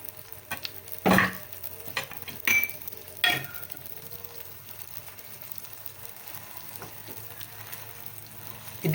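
Onion, leeks and tomato frying and being stirred in a pan for tortang talong, a steady low sizzle broken by a few sharp scraping stirs near the start, with no talking.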